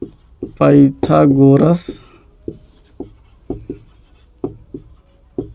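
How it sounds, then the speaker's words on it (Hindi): Pen or chalk marks from a maths solution being written by hand, short scratchy strokes in an uneven rhythm, alongside a teacher talking. "तो यहाँ पे लिखते हैं"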